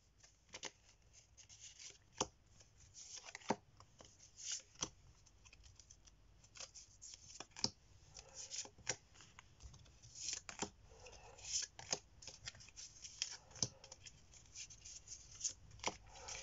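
Small oracle cards, smaller than a tarot deck, being shuffled at close range: a steady run of soft papery riffles and sharp little flicks and taps, quiet and alone with no talking.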